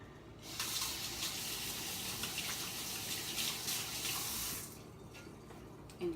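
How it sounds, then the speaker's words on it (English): Hands washed under a running kitchen tap, a steady close splash of water into a sink lasting about four seconds before the flow cuts back to a quieter trickle. "What you do now is wash your hands."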